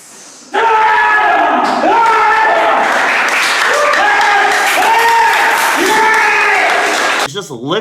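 An audience claps through a martial arts demonstration while voices shout and call out loudly over it, the applause a continuous wash under the shouting that breaks off near the end.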